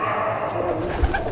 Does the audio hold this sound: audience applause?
no